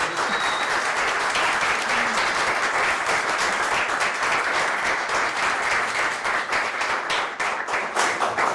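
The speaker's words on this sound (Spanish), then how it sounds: "Démosles un aplauso a estos grandes invitados" An audience at a Teatriados arts gathering applauds the guest artists, strong continuous clapping with distinct hand claps standing out, lasting the whole time.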